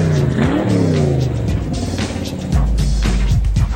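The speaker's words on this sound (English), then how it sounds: "I guess that's a car, not really a motorcycle" A car engine revs loudly and close by, its pitch climbing and falling in repeated sweeps, then dropping to a deeper growl with rising surges.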